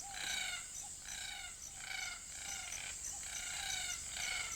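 Sulphur-crested cockatoos call at a waterhole in Kakadu, Australia: repeated harsh, rasping screeches in a steady rhythm, several birds overlapping, moderately distant over a constant high insect drone.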